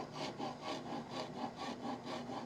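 A wood rasp shapes a cherry wood yarn bowl in quick, rhythmic rasping strokes, an even scraping cycle repeated several times a second, close and alone.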